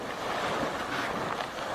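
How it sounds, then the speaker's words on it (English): El Tatio geyser in Chile gurgling and pumping water and steam, a steady broadband rushing and sputtering roar, close and continuous, with no voices. "this geysers really built some pressure, gurgling and pumping water and steam into this lovely azure blue atmosphere"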